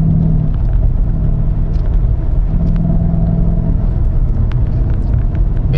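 A Ford Mustang 5-liter V8 with a Ford Racing by Borla exhaust idles close by in a steady, deep, loud rumble with slight throbbing and no clear revving.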